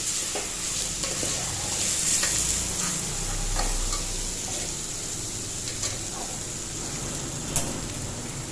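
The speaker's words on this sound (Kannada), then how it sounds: "ಅದನ್ನು ಚೆನ್ನಾಗಿ ಮಿಕ್ಸ್ ಮಾಡಿ ಅದನ್ನೊಂದು 2 ನಿಮಿಷ ಎಣ್ಣೆಯಲ್ಲಿ ಹಾಗೆ ಫ್ರೈ ಮಾಡಿರಿ" Potatoes fry in oil in a pan while being stirred, producing a continuous close sizzle with intermittent scraping and clinking of a spatula, no speech over it.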